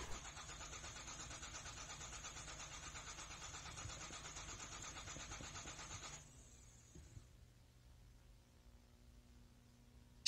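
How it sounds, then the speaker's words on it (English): An engine sputtering and cranking without catching in the horror game Somewhere in the Dark, a steady rough churning that runs for several seconds, then cuts out, leaving only a low hum. "Damn, car won't start."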